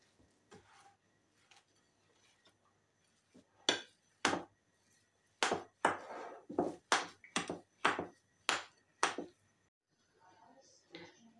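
A spoon knocks against a bowl while cottage cheese is mixed with sugar and vanilla sugar, giving a run of sharp, close clinks and scrapes in uneven rhythm, with quiet pauses between.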